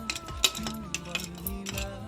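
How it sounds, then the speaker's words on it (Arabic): A metal spoon clinks and scrapes against a cooking pot several times in quick succession as spoonfuls of washed crushed fava beans are added, close and fairly loud with no talking. "و3 معالق فول مدشوش مغسولين"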